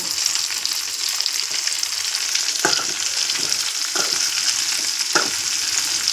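Eggplant frying in oil: a loud, continuous hissing sizzle close by, broken by three brief stirring knocks spread a second or so apart, with no voices.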